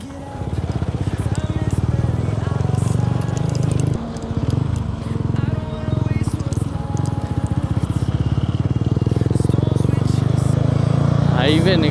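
A motorcycle rides along a slippery dirt road on a Sunday group ride, its engine droning steadily and loudly up close for the whole stretch, with a brief dip partway through and people talking over it.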